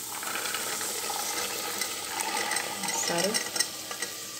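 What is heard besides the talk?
washed kidney beans added to oil and sautéed in spices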